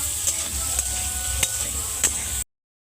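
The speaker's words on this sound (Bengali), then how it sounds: "এই পনিরটা ভাজতে ভাজতে আমি কিশমিশটা দিয়ে দিচ্ছি। এই তেলে ভাজা হয়ে যাবে খুব সুন্দর করে।" Paneer and raisins frying in oil make a continuous close sizzle with a few sharp stirring clicks, then the sound cuts off abruptly.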